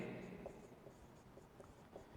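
Chalk or marker scratches across a board during a Hindi grammar lesson, faint and intermittent strokes with soft taps in a quiet room.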